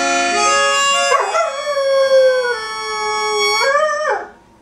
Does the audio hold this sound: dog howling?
yes